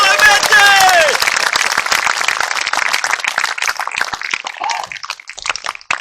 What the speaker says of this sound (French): Je vous prie de faire un tonnerre d'applaudissements à Maître Deveul.